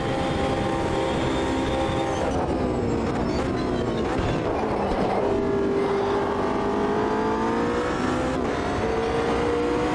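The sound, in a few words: GT3 race car engine on the rev limiter, Automobilista 2 video game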